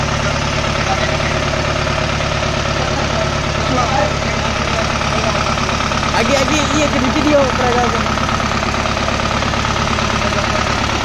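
A homemade rice milling machine built around a Toyota Dyna engine runs steadily and loudly close by, a continuous rough engine drone with faint knocking, while people talk over it.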